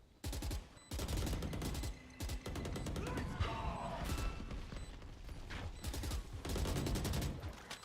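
Gunfire from a competitive Overwatch match, a collegiate junior varsity game between ONU and USC Black, comes in repeated rapid automatic bursts and single shots that crowd together across the whole stretch with short pauses between them.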